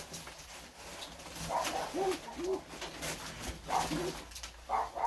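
A Mykolaiv pigeon coos softly in short repeated phrases inside a loft, the calls fairly faint against a low background hum.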